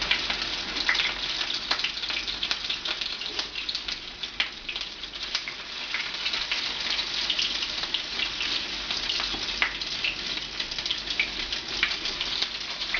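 Egg-dipped French toast slices fry on a hot pan, giving a steady, close sizzle with fine crackles and pops that hold evenly throughout, with no voices.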